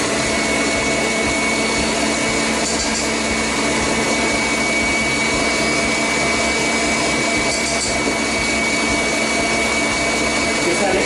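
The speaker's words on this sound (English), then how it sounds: "you can hear it speeding up as it's breaking the meringue down a bit" A stand mixer beating Italian meringue buttercream gives a steady, loud motor whir with a constant high whine, running without pause for the whole stretch.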